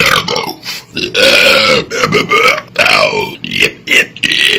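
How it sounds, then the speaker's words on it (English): Big, loud belches come close up in a long run of repeated bursts with short gaps between them, rough and drawn out. "Why are you watching me burp?"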